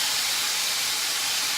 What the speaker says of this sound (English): you're gonna hear a sizzle, y'all. A big sizzle.